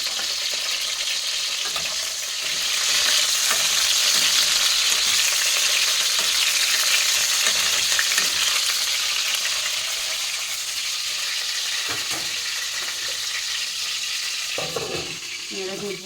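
Hot oil for a stuffed eggplant curry sizzles and spatters loudly and steadily, swelling for a while and then easing off, with scattered pops and some clatter toward the end.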